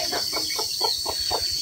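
A hen with newly hatched chicks gives a regular series of about six short clucking calls, close and steady, over a constant high droning of insects.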